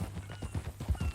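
Horse hooves clip-clop at a steady walking rhythm in Red Dead Redemption 2, about eight soft, even thuds over a low ambient bed, fairly quiet and close.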